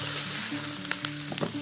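Large pieces of onion sizzle and fry in a hot pan, a steady close crackle with a few sharper pops near the end, no voices.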